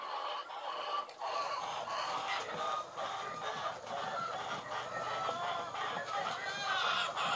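Many chickens, a flock of about 800, cluck and chatter together in a dense, continuous flock noise, close by, with occasional louder squawks.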